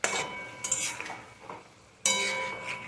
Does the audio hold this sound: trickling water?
no